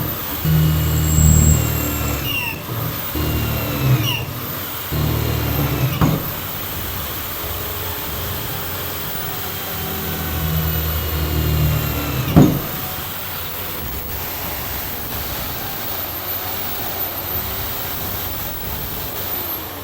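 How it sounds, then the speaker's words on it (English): A 220V 10kW electric generator with alternator and motor runs with a steady mechanical hum and a high whine, joined by a few sharp clicks and knocks. "With this 10-kilowatt electrical generator, we could easily supply power to an entire home."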